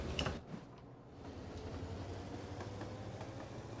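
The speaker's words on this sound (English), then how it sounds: "Brand new train coming out with brand new cars." A new train with new cars pulls out of a depot in the Mashinky video game, a faint, steady rolling rumble with light mechanical clicking.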